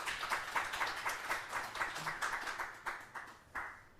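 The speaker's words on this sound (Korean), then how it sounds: "박수로 한번 환영하겠습니다" A church congregation claps to welcome a missionary from the Philippines, a faint, fairly small group of hands heard at a distance, clapping in loose rhythmic bursts that carry on steadily before tapering at the end.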